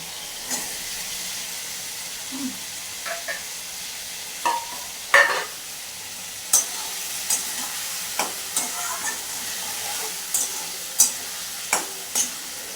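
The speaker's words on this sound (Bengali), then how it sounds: "কষিয়ে নেব" Catfish curry masala (singi and magur fish) is sautéed in a pan: a spatula scrapes and stirs in irregular strokes roughly every second over a soft, steady sizzle, close and fairly quiet, with no talking.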